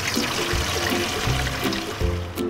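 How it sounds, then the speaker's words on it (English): Water pours into a pot holding a piece of kombu, a steady splashing gush that sounds near and loud, with no talk over it. "first I'm gonna boil some water and put this piece of kombu inside"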